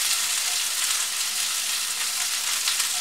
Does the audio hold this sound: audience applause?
no